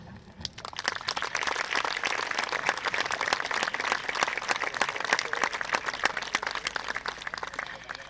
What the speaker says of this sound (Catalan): No tindrem mai prou aplaudiments per vosaltres.